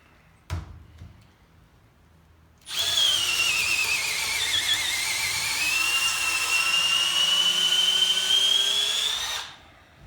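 A Milwaukee M12 Fuel hammer drill runs for about seven seconds, a loud steady high whine whose pitch dips and then climbs as it bores, starting abruptly after a single knock and stopping cleanly.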